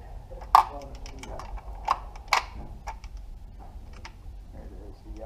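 A fully automatic firearm at a shooting range has its magazine released and its bolt worked, producing a few sharp metallic clicks and clacks close by, with faint voices around them.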